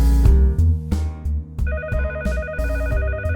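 A phone rings with steady electronic tones over a busy, loud musical background, sounding briefly and close.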